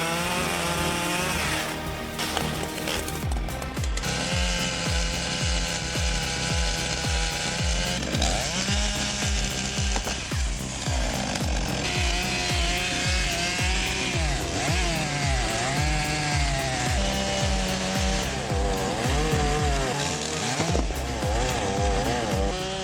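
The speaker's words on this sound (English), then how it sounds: "a chainsaw fitted with a metal rail guide hums to life" A Stihl 880 chainsaw fitted with a metal rail guide runs steadily and loudly as it cuts a giant redwood log, its engine buzzing with rhythmic pulses, continuous with no voices.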